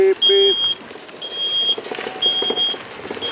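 A slow motorized mobility cart inside a Home Depot store sounds a few high, thin reversing beeps in short spaced pulses, under store background noise and a voice.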